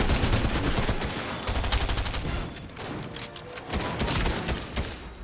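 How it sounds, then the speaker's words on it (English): Rapid bursts of player gunfire in a Fortnite match, loud and dense, with volleys rattling almost continuously and a brief lull near the middle before shooting resumes. "there's people shooting us on the hill, by the way"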